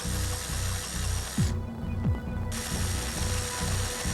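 A power tool buzzes and rattles in a steady rapid pulse, briefly cutting out for about a second before resuming at full strength.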